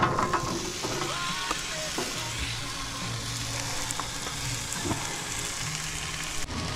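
Squash and sweet potatoes frying on a Blackstone griddle at a campsite, a loud, continuous close-up sizzle with occasional scraping and clicking of a spatula.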